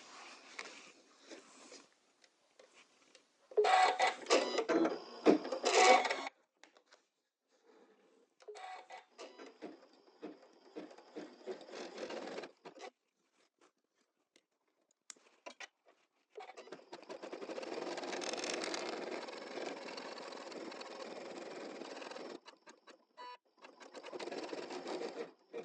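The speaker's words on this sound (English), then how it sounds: "we stitched the outline stitch or the placement stitch" Embroidery machine stitches the outline placement stitch for a double-layer appliqué, running in several uneven bursts of rapid mechanical clatter with quiet gaps between, close by and with no talk.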